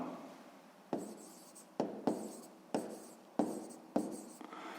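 A pen scratches across paper in short bursts while a sixth-grade maths exercise is written out, six quiet separate strokes, each starting sharply and fading, close and alone.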